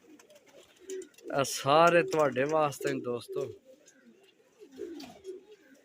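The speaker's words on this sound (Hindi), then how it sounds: "कबूतर देखो है माशाल्लाह कितने अच्छे अच्छे कबूतर भरावां वास्ते लैके आए हैं" Pigeons being shown for sale coo in soft, throaty, rolling bursts close by, while someone talks over and between the calls.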